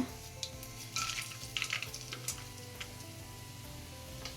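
Oil sizzles steadily in a pan with scattered sharp pops and crackles of mustard and cumin seeds spluttering for a tempering for mango rice, close up, with no voices.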